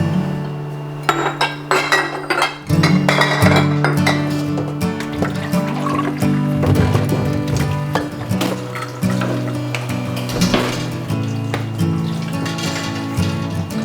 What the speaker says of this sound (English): And I get the really fun job of washing the jars.